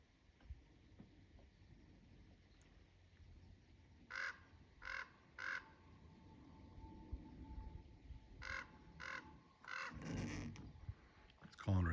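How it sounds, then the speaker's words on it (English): An American coot at a lake gives a series of short, harsh calls, first three evenly spaced, then another run of rapid notes, faint against quiet outdoor ambience with a slight echo. "That's one of the crazy coot calls they make."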